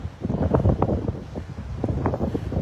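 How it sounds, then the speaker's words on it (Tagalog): Strong seaside wind on the coast at Maborikaigan, Yokosuka, buffets the microphone in loud, uneven gusts and rumbles, with no voices heard. "So windy."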